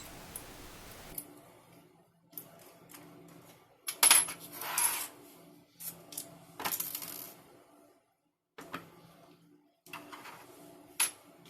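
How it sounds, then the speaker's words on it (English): Small screws being backed out from deep holes underneath a Bachmann Class 25 model locomotive, a series of close, faint metallic clicks, scrapes and ticks separated by short pauses. "Removing the body of a Bachmann 25 requires removing 4 screws from underneath."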